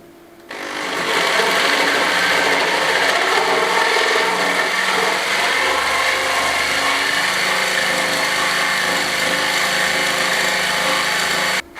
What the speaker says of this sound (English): I'm just going to try and cut it with the jigsaw